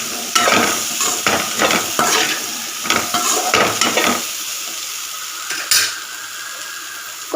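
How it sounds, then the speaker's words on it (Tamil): Spiced chickpea sundal is stirred with salt in a pan, with repeated scraping and clattering of a spoon against metal over a soft background sizzle, close and fairly loud. "உப்பு சேர்த்து நல்லா கிளறி விட்டுறலாம்."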